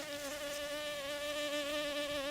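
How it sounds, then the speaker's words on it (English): A single honeybee hums close by with a steady, high-pitched drone that wavers slightly as it hovers, with no voices. "Oh, that's a honeybee right there."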